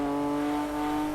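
A car fitted with a modern GTR engine revs steadily in the racing game Gran Turismo 2, giving a sustained, even engine tone with strong harmonics across the whole moment.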